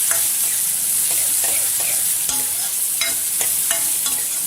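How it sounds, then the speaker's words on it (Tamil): Two large-cut green chillies and onion fry in a pan for a rice and moong dal usili upma. A steady loud sizzle runs throughout, with scattered utensil scrapes and taps from stirring, and no talking. "ரெண்டு பச்சை மிளகாயை இந்த மாதிரி பெருசாக கட் பண்ணிட்டு சேர்க்குறேன்"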